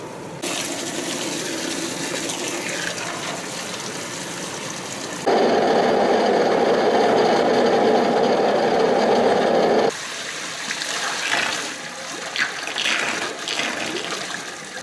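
Water gushing and rinsing through hemp paper pulp in a washing tank, a continuous loud rush that swells into a heavier flow midway, then drops back to splashing and trickling.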